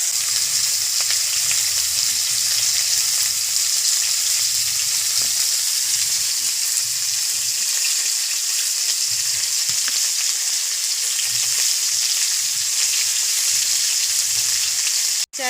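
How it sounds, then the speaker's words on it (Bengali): Straw burning fiercely in a village clay stove, a steady loud crackling hiss and roar that continues without pause before cutting off abruptly at the end. "খড়ের জ্বালান তো একটু কমানো যায় না, হাউ হাউ করে জ্বলতে থাকে।"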